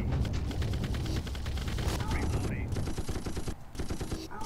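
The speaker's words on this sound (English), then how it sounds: "I'll activate the turrets, you guys try to delay the zombies." Turrets firing at zombies in The Red Solstice, with dense rapid automatic gunfire in continuous overlapping bursts, loud and close, mixed with mechanical clatter.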